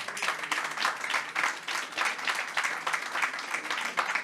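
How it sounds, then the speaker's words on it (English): A conference audience gives a steady round of applause for three panelists at the close of a panel, the dense clapping of a moderate crowd sustained throughout. "please join me in giving a big round of applause to the three panelists"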